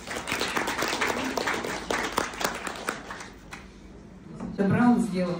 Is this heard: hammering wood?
no